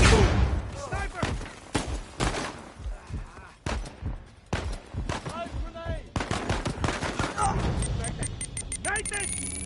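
Gunfire in Uncharted 4: A Thief's End. Sharp, loud shots crack out in irregular bursts and rapid volleys, with a fast run of repeated reports near the end and voices mixed in between.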